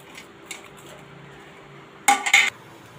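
A pan is set down in a home kitchen, a short sharp metallic clatter of two or three knocks near the end after quiet background.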